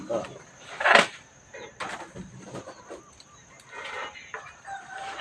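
Chickens at a Thai temple yard cluck and a rooster crows loudly and close by, with more clucking scattered after it while people talk nearby.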